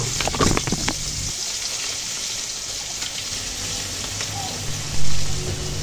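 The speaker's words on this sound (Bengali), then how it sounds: "ইলিশ মাছগুলো এক এক করে হালকা করে ভেজে নিব।" Hilsa fish frying lightly in oil in a kadai, giving a constant dense sizzle with a few louder crackles and spatters near the start.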